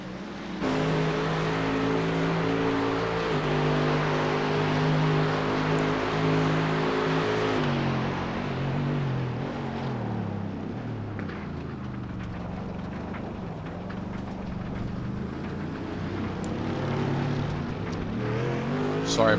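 A race car laps Summit Point's Jefferson circuit in a virtual racing game. The engine note climbs and drops through the gears, with sustained revving that rises and falls as the car brakes and accelerates through the corners.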